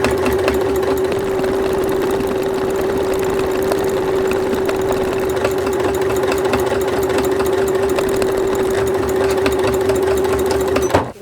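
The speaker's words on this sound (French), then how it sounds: "je vais faire une surpiqûre tout le long pour que ça reste bien en place" A sewing machine runs steadily, topstitching along the seam of a child's rain cape, its motor hum and rapid needle stitching continuous and close for the whole stretch with no talking.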